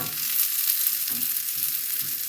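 An eggplant omelette fries in hot oil, giving a bright, steady sizzle with crackling spatter that stays close and continuous.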